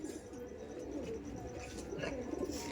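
A young green Madrasi pigeon of the Regdar type coos softly in a faint, low, rolling murmur that repeats steadily in a quiet indoor space.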